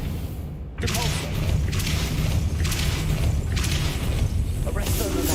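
A Depulso force-push spell in Hogwarts Legacy, heard as a sudden whooshing blast followed by several more rhythmic magical bursts over a steady bed of game ambience.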